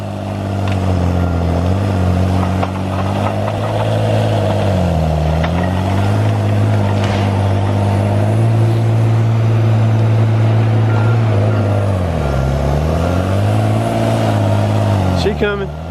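A Tigercat 635D forestry skidder's engine labors under a heavy pull, a loud, sustained diesel drone whose pitch rises and falls repeatedly as the load changes, with a voice talking over it.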